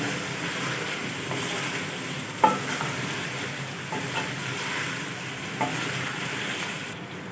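Boiled beef pieces fry in a pan for biryani, a steady close sizzle with occasional stirring clinks and scrapes of a utensil.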